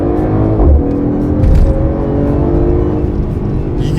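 Mercedes-AMG GT 43 4-Door accelerating, a steady loud engine and exhaust drone that builds without pause, with a few low thumps mixed in and no talk.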